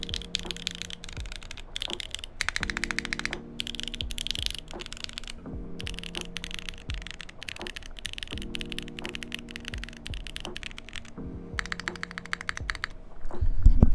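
Keys clack steadily on a Cycle7 mechanical keyboard with a cushioned, moderately quiet build, producing close, rapid typing in bursts separated by short pauses over a faint hum.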